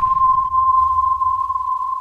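A metallic horror synth tone designed in the Vital synthesizer holds one steady ringing pitch over a low rumbling undertone, loud and sustained without a break.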